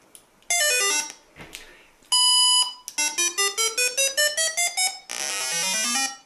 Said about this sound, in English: there's a series of beeps, and there's actually a short beep in the middle